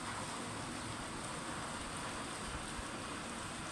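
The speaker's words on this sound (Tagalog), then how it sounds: "inabutan tayo ng ulan" Steady rain pours down with a constant broadband hiss, no pauses, close and fairly loud, with no voices.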